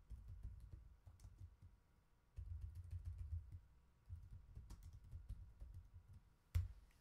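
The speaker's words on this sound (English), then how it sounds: "In fact, let me type something." Typing on a computer keyboard, close-up key clicks coming in quick irregular runs with short pauses, faint and alone with no talking.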